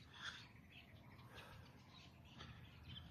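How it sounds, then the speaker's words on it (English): Faint outdoor birdsong from sparrows and magpies in a quiet rural village with trees and open fields, soft chirps and calls scattered over a low steady background hiss. "The birds are singing."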